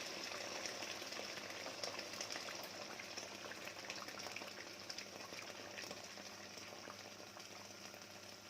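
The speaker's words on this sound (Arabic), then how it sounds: "والميه بتغلي اهي" A pot of water for pasta boils steadily on the stove, a dense continuous bubbling roil that stays near and fairly loud throughout, with no talking over it.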